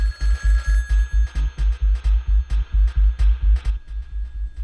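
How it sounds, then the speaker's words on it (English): A banana-shaped telephone rings in the Jazzpunk video game, a loud, close electronic bell sounding in quick, evenly spaced bursts that repeat steadily throughout. "Banana is ringing."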